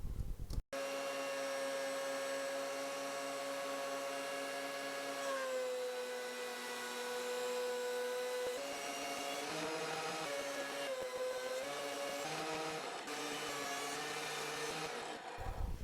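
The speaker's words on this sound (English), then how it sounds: "and then back to the planer." A wood planer runs steadily at a distance with a constant whining hum, and its tone dips slightly as boards feed through, alone and fairly faint.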